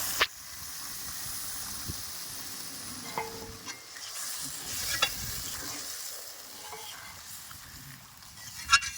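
Coconut milk goes into a pan of fried spice paste for a rui fish curry, hissing and sizzling steadily throughout, with occasional scraping stirs and small clinks rising above the continuous frying.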